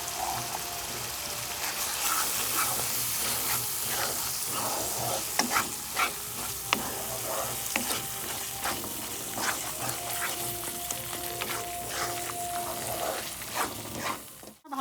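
Spice paste with turmeric and Kashmiri chili powder frying and being stirred in a pan for a Bengali chicken dish, a steady close sizzle with scraping stir strokes throughout.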